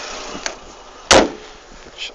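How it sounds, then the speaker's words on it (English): Bonnet of a Renault Megane 1.6 slammed shut in a car park, a single loud, sharp close bang in the middle, with fainter knocks before and after. "Shut the bonnet."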